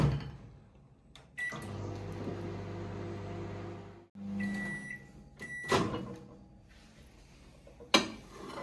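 A microwave oven cooking masala bhindi, covered: a steady low hum with a door click before it starts, a brief pause and restart midway, and a few clunks and a beep toward the end.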